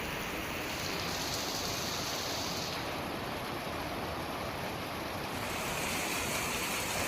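Heavy monsoon rain pours down as water rushes over flooded roads in Jafrabad, Gujarat, a dense, steady roar of broadband noise with no voices.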